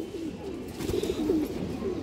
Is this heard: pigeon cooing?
yes